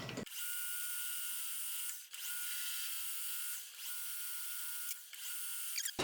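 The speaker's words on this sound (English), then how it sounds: "We're gonna drill a clearance hole" A drill runs close up in several long, steady bursts, drilling a clearance hole in a metal machining arbor, its high whine dipping briefly between each push.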